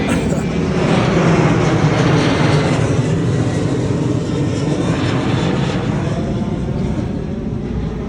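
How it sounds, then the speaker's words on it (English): A steady, loud airplane engine roar fills the whole stretch, a broad continuous rumble that swells slightly and then eases off. "airplane."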